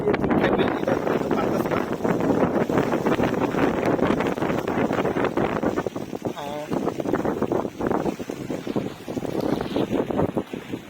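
Choppy water on the Buriganga River sloshes under steady wind buffeting the microphone, with someone talking over it throughout.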